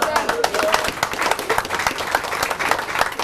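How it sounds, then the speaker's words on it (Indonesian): A seminar audience at a business partnership orientation breaks into loud, dense applause, many hands clapping rapidly and steadily for the whole stretch, with a voice faintly under it. "tepuk tangan untuk Sultan"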